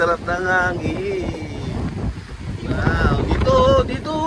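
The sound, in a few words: wind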